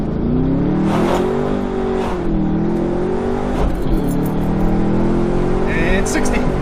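A Lamborghini Countach replica accelerates hard from a standstill toward 60 mph, its engine revving loud and close, the pitch climbing and dropping through gear changes, with people talking over it.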